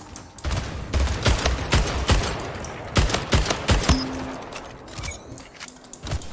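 Carbine shots in the video game Splitgate ring out in rapid, loud bursts, crisp sharp cracks in quick succession over a busy game background, thinning toward the end with a brief tone.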